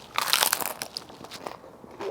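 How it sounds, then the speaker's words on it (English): Crisp crunching bites into a crunchy homemade beef taco shell, close and loud, a burst of crackling at the first bite followed by softer chewing crunches, with no talk over it. "So crunchy too, did you hear that?"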